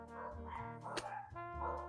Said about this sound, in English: my dogs bark at anything